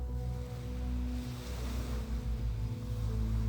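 Steady ocean waves rolling onto a shore, a broad continuous wash with gentle swells, heard alone with light wind.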